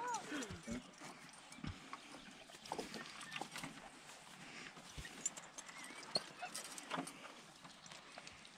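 A mare walking on a farm, hooves clip-clopping in an irregular, fairly faint rhythm, with people talking nearby and a dog and chickens in the background.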